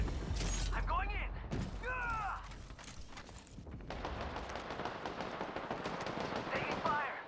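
Rapid automatic gunfire from a firefight in the battle royale game Apex Legends, close and loud, running in dense bursts with clanking mechanical reload sounds, while a voice speaks over the shooting.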